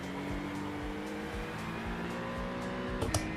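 An LMP2 prototype race car sweeps past at Watkins Glen, its engine a faint, steady drone with a slight rise near the end, heard from a distance.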